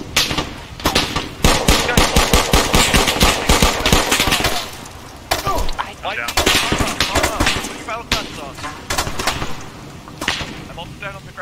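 Rapid automatic gunfire in the military shooter Arma 3, loud bursts of sharp cracks with brief pauses and echoing shots, with voices talking in places.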